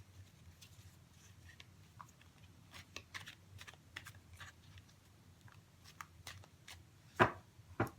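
Tarot cards are shuffled up close, a series of quiet crisp riffling taps and flicks scattered across the span, ending in two sharper card snaps, with no talking.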